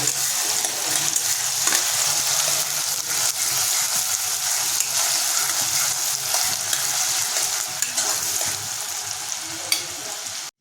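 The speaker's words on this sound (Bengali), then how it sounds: "পেঁয়াজ কুচি আমরা যোগ করে দিয়েছি তাই খুঁজতে কিছুক্ষণ ভালোভাবে নাড়িয়ে নেব" A hundred grams of chopped onion fries in mutton fat for ghugni, a steady close sizzle broken by scraping and clacking as a spoon stirs the pan.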